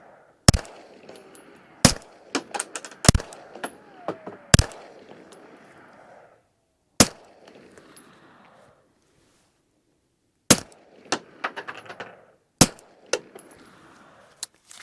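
Suppressed shots from a 2011 Staccato P pistol, fitted with a four-baffle suppressor and fired outdoors at a hillside target: about a dozen sharp, fairly loud cracks in irregular clusters, each with a short rolling echo, with quiet gaps between them.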